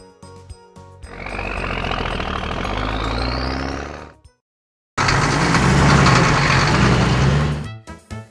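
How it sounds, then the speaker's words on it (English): A crane engine runs in two loud, steady bursts of rumbling idle separated by a brief silence, the first carrying a rising whine that climbs as it revs. "Crane."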